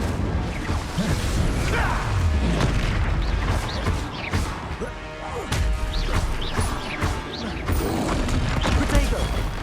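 Spell blasts in the video game Hogwarts Legacy during a PS5 combat sequence, a dense run of booms, crashes and whooshing impacts that stay loud and continuous under a game soundtrack, with voices calling out.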